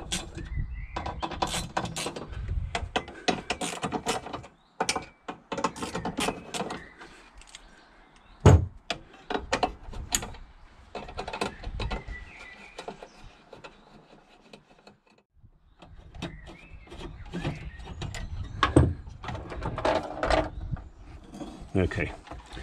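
Ratcheting and clicking of hand tools backing out four 8mm bolts securing the sat-nav module in a 2002 BMW E65/E66 7 Series, with metallic rattles and knocks in bursts separated by pauses, close and moderately loud, with occasional talk.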